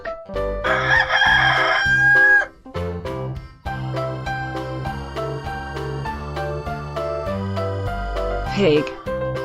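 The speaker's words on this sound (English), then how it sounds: "Cock." A rooster crows one long, strained cock-a-doodle-doo right at the start, loud and close over upbeat children's music, followed by a short fowl squawk near the end as the tune plays on.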